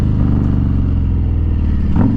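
Harley-Davidson Street Glide ST with a 117 cubic inch engine rumbles through its exhaust pipe, a loud, deep, steady idle with a pulsing low throb and a slight rise near the end.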